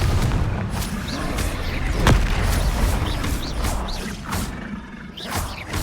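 Confringo blasting spells explode in Hogwarts Legacy as a string of booming bursts, one especially sharp blast standing out among repeated impacts over a steady rumbling game background.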